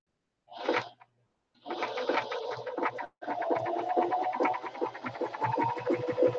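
A sewing machine stitches a small rolled hem on a fabric art doll, with a brief burst, then a pause, then a longer steady run of rapid, loud, close needle strokes.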